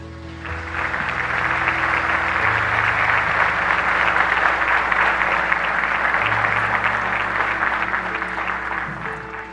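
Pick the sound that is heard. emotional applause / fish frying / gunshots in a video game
emotional applause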